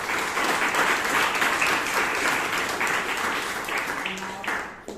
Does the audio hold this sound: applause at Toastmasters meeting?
yes